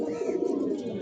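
Pigeons in a home loft cooing softly and continuously, a low throaty warble close by with no other sounds.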